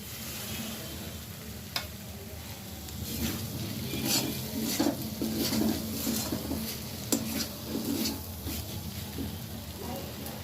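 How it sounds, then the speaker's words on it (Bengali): Small fried shrimp go into a pan of spiced masala. A soft sizzle runs under scraping and stirring, with the clatter of a spoon against the pan. "নিয়ে আমি এবারে ভেজে রাখা ছোট ছোট চিংড়ি মাছগুলো দিয়ে দিচ্ছি।"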